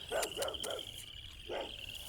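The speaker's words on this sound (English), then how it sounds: "he's a dog. He barks." A dog barks four times on a farm, three quick barks then one more after a pause, moderately close against a quiet outdoor background with a steady high insect-like hum.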